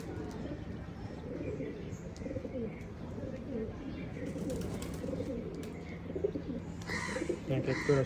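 Domestic pigeons just let out after a long time coo softly and repeatedly at close range, with some chirps and a brief louder flurry near the end.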